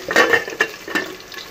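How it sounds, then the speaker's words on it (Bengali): Potatoes and onions frying and being stirred in a wok, with close scraping strokes of the spatula over a steady soft sizzle, alone without speech. "আলু পেঁয়াজটা একটু ভাজা ভাজা করে নিচ্ছি"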